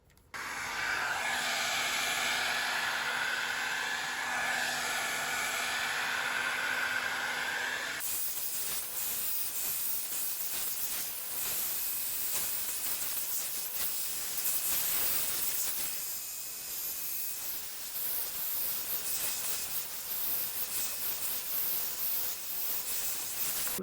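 A hair dryer blows hair dry at home, a loud continuous whooshing roar that runs nearly the whole time, shifting in pitch and tone partway through as the airflow changes.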